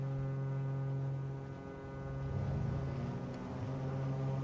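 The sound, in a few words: Beechcraft Baron G58 engines running in Flight Simulator 2020 video game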